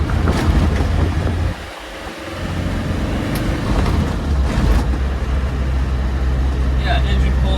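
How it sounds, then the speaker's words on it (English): Land Rover Wolf Defender 90 with a 300Tdi diesel pulling steadily on the road, a loud, low, continuous engine drone heard inside the cab, mixed with heavy wind and road rumble. "engine pulls nicely"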